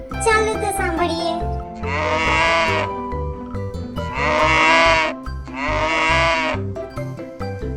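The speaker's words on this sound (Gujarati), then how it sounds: "ગાયનો અવાજ સાંભળ્યો છે? ચાલો તો સાંભળીએ." A cow moos in a farm-animal sound lesson. After a brief higher call, three long, drawn-out, close moos follow one another with short pauses between them.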